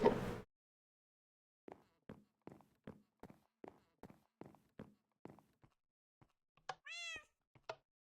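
A cat meows once inside the Minecraft Agrarian Skies modpack game, after a quick run of soft, evenly spaced blocky footsteps, all faint against silence.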